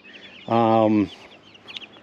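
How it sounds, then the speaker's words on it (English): A single loud hen cluck, a short harmonic squawk of about half a second, rises close by on a farm where a sow has had piglets, with faint chicken chatter around it. "Now there is one little black chicken there."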